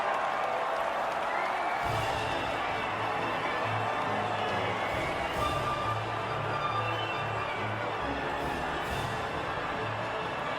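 A steady roar of crowd cheering and applause at the podium of the Italian Grand Prix in the F1 2019 racing video game, continuous and dense for about ten seconds with a low tonal hum underneath.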